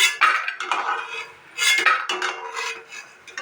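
Fried peanut pakoras are lifted from a pan of oil, with bursts of metallic scraping and clinking from a spoon against the pan coming in two close clusters, near and moderately loud.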